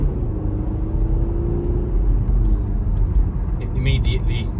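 A 2015 Audi A4 allroad 2.0 TDI quattro automatic pulls away as the gearbox kicks down, a low diesel rumble with a faint rising whine, heard from inside the cabin with someone talking over it.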